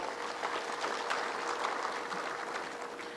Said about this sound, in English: I would like to request that you give them a round of applause from wherever they are.